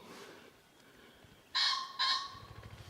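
Birds roosting on the Yellowstone River in Montana on a morning give two loud, honking calls close together, set against a faint, quiet outdoor background.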